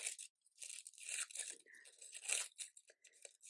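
Craft foil is pulled and torn off in quick, quiet crinkling rips and crackles, close and bright, in several uneven bursts with short silent gaps.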